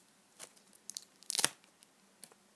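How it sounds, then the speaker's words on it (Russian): A small paper surprise packet is torn open, giving a few close, sharp ripping and crinkling bursts with one loud tear in the middle and brief pauses between. "И открываем наш пакетик."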